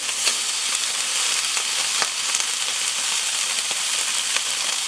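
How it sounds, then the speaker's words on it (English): Duck breast skewers sear on a barbecue grill with a steady, close sizzle and crackle, punctuated by faint pops and ticks, with no voices. "we're just going to rest them on there and give them the first sear"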